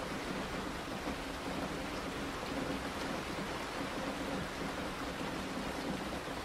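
Steady rain falls on a van at night, a soft, even, continuous patter with no breaks or voices.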